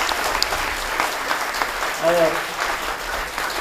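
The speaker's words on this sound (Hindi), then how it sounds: "गजब तालियां बजाइए, इतनी कस के तालियां बजाइए कि उनको याद रहे" An audience at a theatre academy performance claps loudly and continuously, with a voice speaking briefly over the applause.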